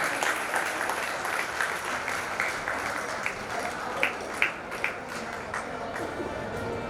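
Audience applause at a Jain religious gathering honouring a revered monk, a broad sustained wash of clapping from a crowd, fairly even in loudness with a few sharper claps near the end.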